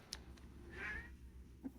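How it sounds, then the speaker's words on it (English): A pet cat meows once, faint and in the background of a quiet indoor room, a brief soft call with a small click before it. "You might hear my little cat in the background."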